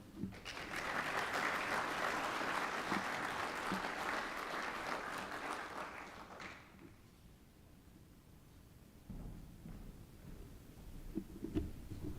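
Banquet audience at a technical student awards event applauding a carpentry student, a full roomful of clapping for about six seconds that stops abruptly, followed by quieter room noise, shuffling and faint knocks.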